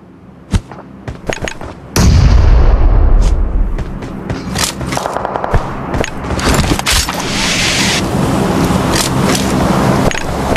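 Distant gunfire from enemies fighting in the PUBG Mobile battle royale game crackles as repeated sharp shots and thumps over a loud continuous rumble of wind or a vehicle, with bursts spread across the whole stretch.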